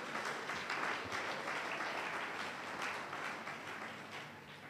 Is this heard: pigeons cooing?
no